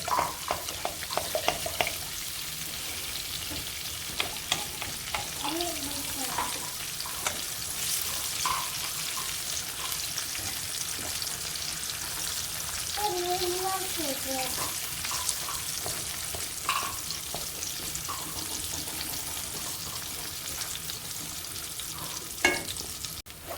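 Eggs with soy sauce scrambled in a hot frying pan for fried rice, steady sizzling throughout with frequent spatula scrapes and taps, and a voice talking intermittently over it.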